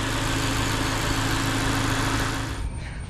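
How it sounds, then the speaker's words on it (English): A 2016 Mazda 3's four-cylinder engine idling with heavy vibration, a close, loud, steady droning hum with a low buzzing rattle that holds for about three seconds before easing slightly. "Serious vibration from a 4-cylinder."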